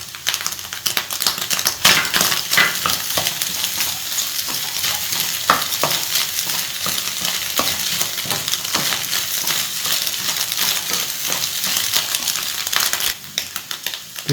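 Chicken fried rice frying and being stirred in a pan, street style, with a steady loud sizzle and repeated scraping and clattering strokes throughout, no voices.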